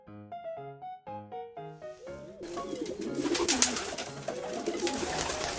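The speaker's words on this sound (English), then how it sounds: "Pigeon, soft cooing." Pigeon cooing softly, a low throaty murmur heard after a few seconds of harmonic musical tones, continuing quietly under a faint busy background.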